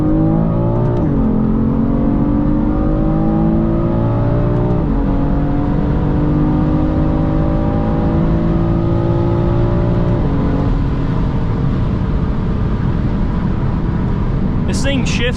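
A BMW M3 engine revs up loudly from inside the car, climbing in pitch through several gear shifts with brief dips between, a strong continuous roar throughout.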